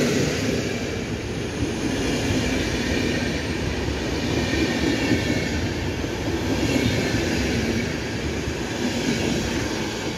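Train hauled by a pink Dragon locomotive passing through Sopot, a loud continuous rumble of wheels on rails with faint clatter, steady and close throughout, with no talk.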